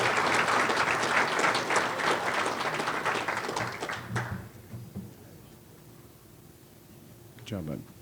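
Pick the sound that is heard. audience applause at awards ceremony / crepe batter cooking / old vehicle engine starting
audience applause at awards ceremony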